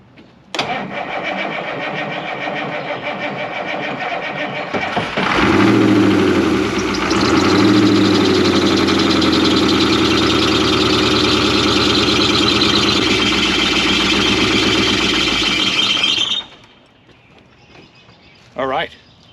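A 1981 International Harvester snow plow engine cranks and catches after about five seconds, then runs loud and rough for roughly eleven seconds before abruptly cutting out, leaving near silence.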